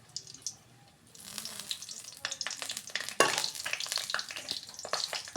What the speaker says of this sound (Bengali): লঙ্কাটা একটু লাল করে ভেজে নিচ্ছি হালকা করে